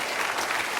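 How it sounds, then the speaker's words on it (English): Moderate applause from a studio audience on an Australian football television show, a short steady wash of clapping filling the whole moment without voices on top. "It's a moderate applause for Dennis."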